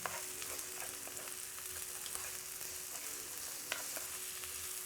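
Garlic and ginger paste being stirred into vegetables frying in a pan, giving a steady, faint sizzle with a few light scrapes of the spoon and no talking.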